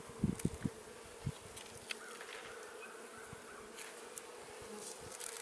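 Honey bees buzz steadily around an opened beehive, a close, faint, continuous hum with a few individual bees droning past and some light clicks of frame handling.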